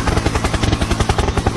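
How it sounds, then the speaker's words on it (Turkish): Rapid, loud rhythmic thumping of a helicopter's rotor, close and pulsing steadily with no talk over it. "Helikopter, helikopter."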